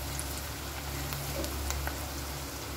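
Tomatoes fry in a pan for a curry, with a steady, moderately soft sizzle and crackle that runs evenly throughout and has no voices over it.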